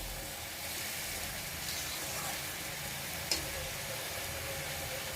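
Vegetables for data chorchori, a stalk-based dish, sizzle steadily in a pan as they are stirred, with a close, even hiss and one brief sharp clink of a utensil partway through.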